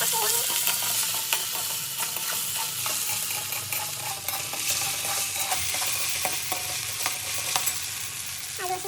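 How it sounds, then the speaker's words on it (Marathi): Oil heating in a pan for sabudana khichdi, a constant bright sizzle with scattered small pops and light clicks of utensils, close and fairly loud, with no speech. "इथं हे तेल असं तपायला ठेवलेलं आहे बघा"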